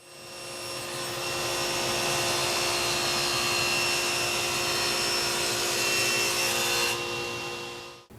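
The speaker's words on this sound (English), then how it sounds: "nice clean cuts on that ripping with this 40-tooth blade" A Freud Diablo D1040UX 40-tooth general purpose blade ripping maple on a table saw: a loud sustained whine and rasp of the blade through the wood, steady for several seconds before cutting out abruptly near the end, no talking.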